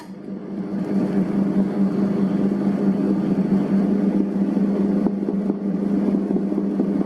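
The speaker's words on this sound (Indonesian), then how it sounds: "Nyalakan mesinnya, langsung mengadon." Electric dough mixer kneading bread dough for soft Bluder bread, made with eggs and milk, runs with a steady, loud motor hum and drone that continues without a break.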